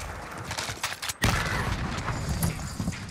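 Grenade blast and gunfire in a first-person shooter game, a dense crackle of shots building into a heavy boom midway, followed by sustained rumbling fire.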